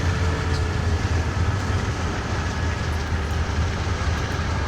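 A grain train in Train Simulator 2019 on Marias Pass starts to move, giving a loud, continuous low rumble of locomotive and wagons with no talk.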